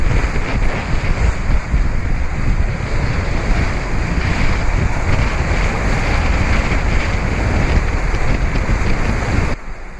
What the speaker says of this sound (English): we're plowing into these waves, and you'll see they break over the bow here.